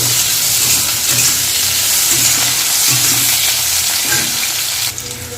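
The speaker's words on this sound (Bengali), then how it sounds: "তো আমি উচ্ছেটাও ভাজবো ভেজে এটা আলাদা বাটিতে রাখবো এটা ভালো করে ভাজবো" Sliced bitter gourd frying in oil in a pan, a loud steady crackling sizzle that runs continuously with faint stirring underneath, easing slightly at the very end; no one speaks.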